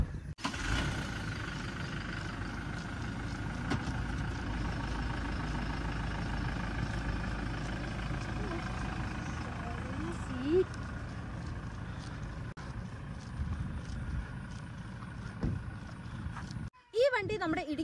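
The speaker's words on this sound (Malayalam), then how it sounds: "ഇതപ്പം ടൊയോട്ടോ ഹൈലക്സ് ഡീസൽ വേരിയന്റിലെ ഓട്ടോമാറ്റിക്." A Toyota Hilux diesel pickup with an automatic gearbox runs steadily close by, giving a continuous low rumble that holds level throughout, with a brief clatter near the end.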